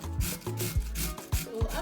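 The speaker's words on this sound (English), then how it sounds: "So after grating our potatoes" Raw potatoes are rubbed against a grater in quick, rhythmic strokes that produce a close, rasping scrape about four times a second, with no voices.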